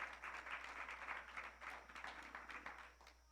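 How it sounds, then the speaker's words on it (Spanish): Congregation in a church applauding, a dense wash of many hands clapping at moderate level throughout, easing slightly toward the end. "Un aplauso al Señor."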